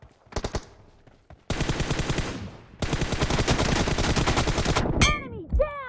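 Rapid automatic gunfire in the mobile battle royale game PUBG Mobile: a few short bursts, then long sustained loud strafing runs, ending with ricochet-like whizzing shots, close and dominant with no talking.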